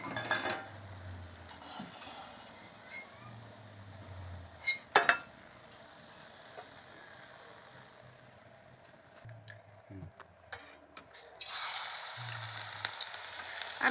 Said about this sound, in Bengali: আমি এইভাবে সব হিংচাগুলো ভেজে নেব।